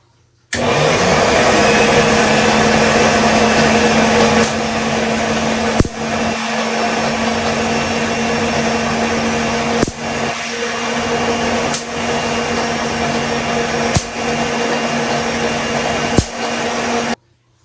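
A Van de Graaff generator runs with an acrylic cylinder fitted, giving a steady loud motor hum with a constant tone, broken by several sharp spark cracks at irregular intervals.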